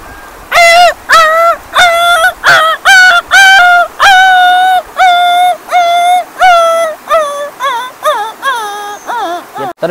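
A voice imitating whimpering puppies, a close, loud series of about a dozen high, wavering whines and yelps in short bursts, growing quicker and more broken toward the end.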